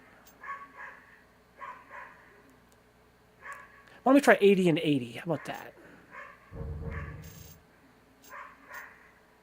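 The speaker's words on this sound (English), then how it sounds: "Sorry about the dog barking" A dog barks in a short, loud, yelping burst nearby, then quieter yips follow, while someone talks calmly in between over faint game audio.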